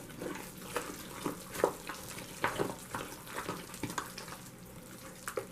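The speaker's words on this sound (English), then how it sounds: "So I make sure I stir it up good since I'm using my hands." Soft, wet squelching and mashing as potatoes for loaded mashed potatoes are stirred by hand, a repeated irregular rhythm of moist thuds, close and quiet.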